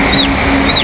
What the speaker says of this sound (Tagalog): Mukhang mga healthy yung mga sisiw natin guys.